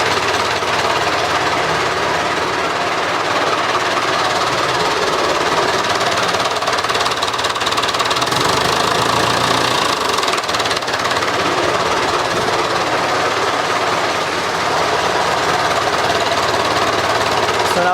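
A David Brown 990 tractor engine idles slowly with a steady, loud, continuous diesel knock and chug, then picks up as the throttle is opened.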